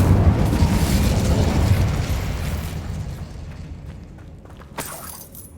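A fire spell blast in a Harry Potter video game: a loud, rumbling burst that decays over several seconds, followed by a brief sharp crackle near the end.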